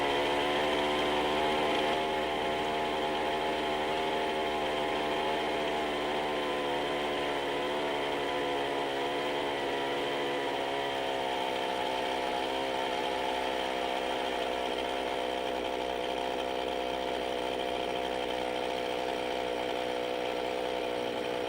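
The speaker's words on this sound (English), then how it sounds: "Turn in or out the low-speed adjustment L very carefully until the saw runs the fastest." Chainsaw engine running steadily at a high, even pitch during carburetor adjustment, loud and close, with no voices and no change in speed for the whole stretch.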